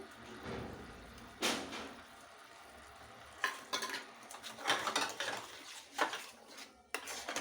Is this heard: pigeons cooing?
no